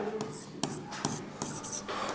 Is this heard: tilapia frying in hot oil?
no